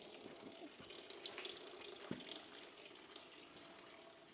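Radiator flush fluid drains from a first-generation Toyota 4Runner in a steady, faint trickling and splashing stream, with an occasional light knock in the background.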